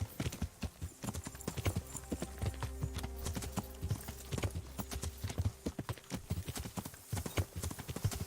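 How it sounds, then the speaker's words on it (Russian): Hooves clip-clop in a quick galloping rhythm as a horse runs in Kingdom Come: Deliverance, the sharp close strikes continuous and fairly loud over a low rumble, with a brief quieter gap near the end. "Давай, конь, ты можешь прыгнуть."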